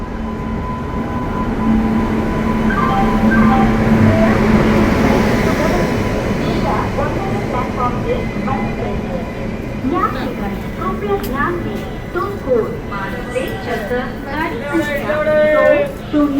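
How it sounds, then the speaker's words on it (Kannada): A train pulls into Arsikere railway station in the rain. A low rumble and hum build and then fade, followed by brakes and tonal squeals as it slows. People chatter on the platform throughout. "ಇನ್ನೇನು 2 ಮಿನಿಟ್ಸು ಟ್ರೈನ್ ಬರ್ತಾ ಇದೆ"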